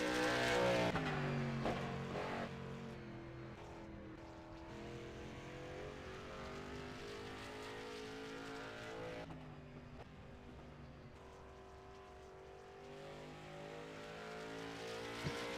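A street stock race car in a sim racing game runs a hot lap, its engine droning steadily and loudly throughout with rising and falling pitch as it works around the track, no voices.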